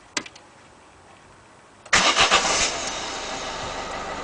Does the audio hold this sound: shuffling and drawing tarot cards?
no